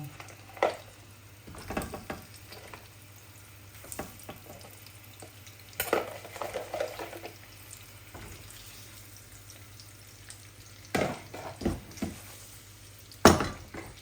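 Tilapia pieces fry in oil in a pan, a soft, low sizzle broken by a few louder clatters and scrapes of utensils against the pan.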